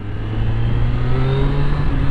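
A Triumph Street Triple 765RS motorcycle pulls hard under acceleration in second gear, its engine note rising strongly and loud up close for a couple of seconds, with no talking.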